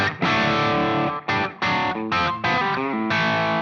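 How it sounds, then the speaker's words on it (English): An electric guitar plays chords through the crunch channel of a Super Jack amp, crunchy and mildly distorted, several strummed chords with short breaks between them, loud and close. "Next up, we've got the crunch channel on the Super Jack."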